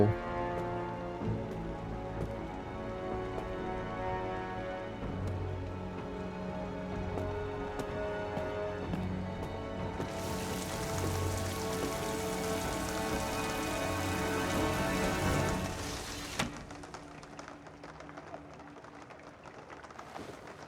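Steady rain pours in the video game Rise of the Tomb Raider, a dense continuous patter that swells into a heavier hiss for several seconds before easing back, with no talking.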